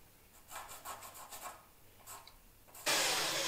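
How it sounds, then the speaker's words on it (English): A marker rubs along a wooden test board in a series of short, quick strokes. A louder, broad scraping rush starts near the end. "And then I mark on my test board the distance I want to put the lever away from the eye bolt."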